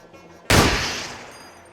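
Single gunshot in the video game Receiver 2: one sharp, loud crack that snaps in abruptly and trails off in a decaying echo over about a second.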